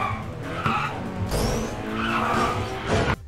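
Car drifting in a top-down Unity Ultimate2D Car Kit driving game, tires squealing and skidding over a droning engine, loud and close, with a sharp final squeal.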